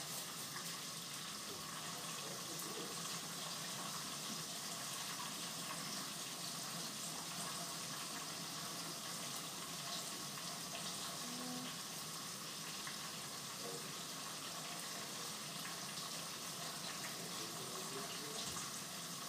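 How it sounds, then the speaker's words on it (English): Tap water runs steadily over fresh tomatoes being rinsed in a kitchen sink, a constant hissing splash that stays even and moderately loud for the whole stretch, with no talking. "I'm gonna rinse it off real quick."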